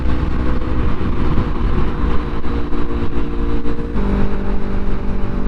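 Yamaha MT-03 motorcycle engine while riding, with a steady loud drone and a brief shift in pitch as the bike drops into a lower gear, accompanied by constant road and wind rumble.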